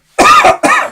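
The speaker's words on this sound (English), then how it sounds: "I don't want to be coughing through this round" A loud, close cough during a UFC 273 prelims broadcast: a harsh, throaty burst followed at once by a second, shorter one, with no talk over it.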